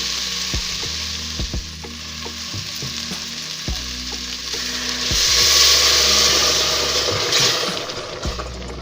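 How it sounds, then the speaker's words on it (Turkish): Tomato paste fries in a pan with a steady close sizzle. Scattered stirring clinks and knocks sound throughout, and the sizzle swells louder midway. "dakika boyunca salça kavrulsun sonra suyunu ilave edeceğim"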